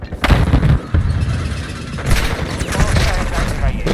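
A stun grenade goes off in the Call of Duty MWII multiplayer beta amid dense, loud bursts of gunfire and blasts, with a player's voice talking through the chaos.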